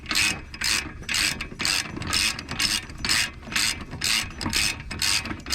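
A ratchet wrench clicks in quick repeated bursts while tightening long 21 mm front brake caliper bolts on a 2014 Dodge Charger SXT, loud and close with no talking.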